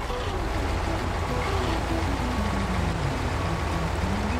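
Rushing water of a waterfall in the SnowRunner truck game, heard as a steady, full broadband roar with low tonal rumbles, likely a truck engine, shifting underneath and no talk.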